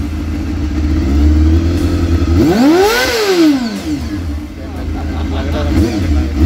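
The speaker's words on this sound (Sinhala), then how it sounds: "ඉතින් අපි මේ බයික් එකේ එක්සෝස් සවුන්ඩ් එක චෙක් කරලා බලමු." A Honda Hornet 250 motorcycle revving close by, its exhaust note rising sharply to a peak and falling back, then a smaller rev near the end, with a brief spoken word.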